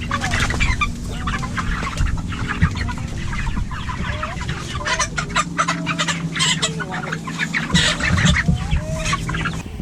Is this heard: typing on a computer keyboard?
no